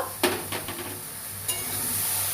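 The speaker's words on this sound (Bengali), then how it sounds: "টমেটো দিয়ে আবার একটু ভালো করে কষা করে নেব" Okra and tomato fry in a hot pan with a steady sizzle while a spoon stirs them, giving a few sharp scrapes and knocks against the pan. No one speaks.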